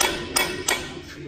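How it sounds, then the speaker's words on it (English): A chisel tapping the drive shaft of a Mitsubishi Triton during a lift kit and diff drop install: two sharp metallic knocks, close and loud, spaced about a third of a second apart, with no talk. "Just grab a chisel. All you have to do is tap the drive shaft."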